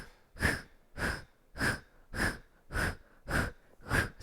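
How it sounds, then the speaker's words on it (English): Forceful, rhythmic exhales during a hot yoga breathing exercise, with seven or eight sharp, evenly spaced breaths about every half second, close and loud with no talking between them. "Exhale all your breath."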